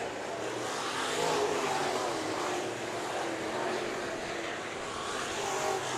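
IMCA modified race cars roaring around Bakersfield Speedway at the finish of the Richie McGowan Memorial, a loud, steady, broadband engine roar that swells slightly and fills the whole stretch with no break.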